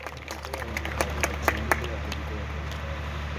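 An audience claps for a lamp-lighting ceremony at a poetry gathering, scattered moderate applause with several distinct claps over a steady low hum and some murmuring voices.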